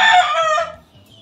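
A rooster among gamecocks and hens gives a loud, close crow that trails off, followed by soft low clucking, with no voices.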